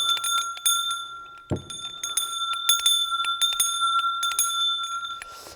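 A homemade metal bell is struck repeatedly in an irregular rhythm, giving bright, ringing metallic tones with sustained overtones, close and clear, plus one dull low thunk partway through, no talk.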